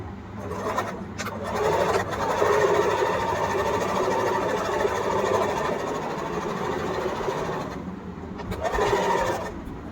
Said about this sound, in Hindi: सो यहाँ पे हम सिलाई चलाने वाले हैं।